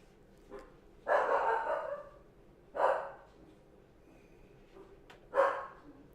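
A dog barks three times in separate bursts, the first longer and followed by two short sharp barks, fairly near in an otherwise quiet room.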